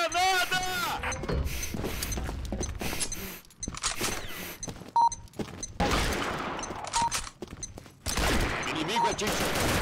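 Gunfire rattles in the online shooter Combat Arms, with rapid automatic bursts, single shots and a heavy blast, loud and close, broken by short gaps.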